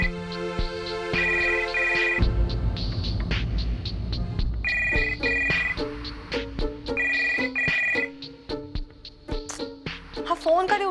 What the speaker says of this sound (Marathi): बेल वाजतेय सतत आणि हा फोन नाही उचलते